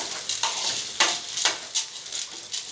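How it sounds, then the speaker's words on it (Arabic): Tomatoes cut like salad frying in a pan, with soft bright sizzling and several stirring scrapes at an irregular rhythm, close and fairly clear, with no talk. "بخرط لها الطماطم زي السلطه وبحمرها كده"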